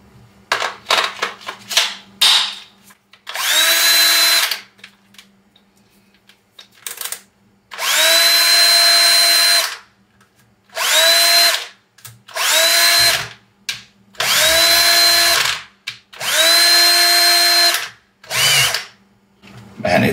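A repaired Makita HP330D cordless drill runs in a series of bursts, several quick blips at first and then longer full-speed whirring runs of about a second each, loud and close, separated by short silences.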